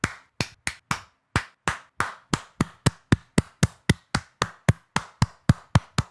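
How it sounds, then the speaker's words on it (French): Hands clap alone, close and sharp, about twenty claps in a steady rhythm that gradually speeds up slightly. "On applaudit Monsieur Paf, s'il vous plaît."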